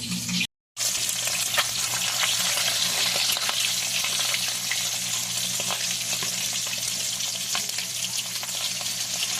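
Eggs fry crisply in a pan with a steady, dense sizzle and crackle, close and continuous after a brief dropout near the start, with no voices.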